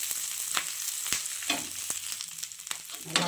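Vallarai (Centella) leaves sautéing in a pan, giving a close, crackling fry sizzle broken by several sharp scrapes and clicks of a stirring spatula.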